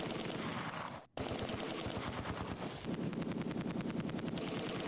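Sustained MG42 machine gun fire in the Close Combat 2 WWII strategy game, a dense, loud stream of rapid bursts with a brief gap around the first second, then continuing fire layered with more shots.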